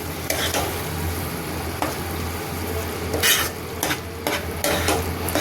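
Paneer curry sizzles in a pan as it is mixed, with a wooden utensil giving repeated close scrapes and knocks over a steady frying hiss and low hum.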